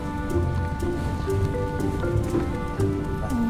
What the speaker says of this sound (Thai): ฝนตกไปเลย